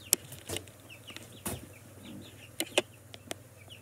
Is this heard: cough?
no